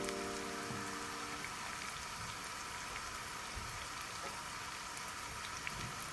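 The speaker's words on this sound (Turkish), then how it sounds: "Soğanla biberi güzelce kavuruyorum." Onions and green peppers sautéing in a pan give a steady, even sizzle that crackles like light rain and holds from start to finish, with no voices.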